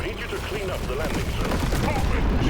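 Rapid, overlapping explosions and gunfire-like bursts from the video game Deep Rock Galactic: Survivor fill the clip, loud and continuous, with busy game action and a voice mixed in.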